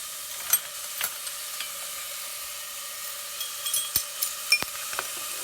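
Chopped garlic sizzles quietly in a pan for black-eyed peas and greens, a soft steady frying hiss broken by a few sharp stirring clicks and scrapes, with no voices.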